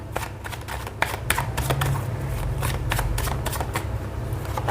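Tarot cards being shuffled and drawn during a reading, a steady run of soft papery riffling and slapping with sharper flicks, close and continuous without speech.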